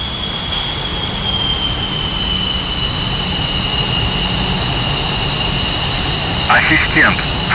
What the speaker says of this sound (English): Keep a 72-75 RPM while taxiing to have a comfortable taxiing speed, requiring minimum brake inputs from the pilot.